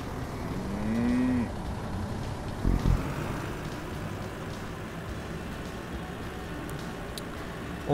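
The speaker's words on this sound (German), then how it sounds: "So, Kühe." Cows low in the farming game Professional Farmer 2017: one long, clear moo rises and holds, followed by a short thump, all over a steady bed of wind-like ambient noise.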